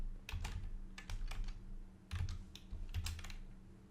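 Close, quiet typing on a computer keyboard while building a WordPress page, with short bursts of key clicks separated by brief pauses and no talk.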